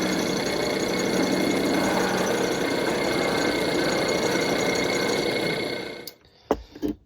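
Polishing wheel spins with a steady mechanical whir as abalone trim is pressed against the finer buff, running continuously before winding down and stopping near the end.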